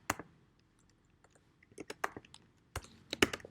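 Computer keys are pressed in a few quick separate clicks during photo editing software work, close and fairly quiet, with short pauses between bursts.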